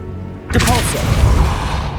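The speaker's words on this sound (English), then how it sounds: "Depulso!" Depulso force spell impact in Hogwarts Legacy: after a quiet moment, a sudden whooshing magical blast hits with a heavy thump, trailing into a rumbling, crackling burst that stays loud and close to the end.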